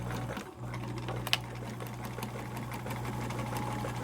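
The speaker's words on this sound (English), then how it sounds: "now we're over here at the sewing machine" A sewing machine stitching a watchband, a steady fast mechanical whir with rhythmic needle clatter that runs continuously, close and clear, with a brief bump near the start.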